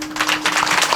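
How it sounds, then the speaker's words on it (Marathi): Kirtan audience at a Pandharpur Vari gathering clapping hands together, a dense close wash of rhythmic claps filling the short moment. "मी मगाशी सांगितलं टाळ्या कशा वाजल्या पाहिजे"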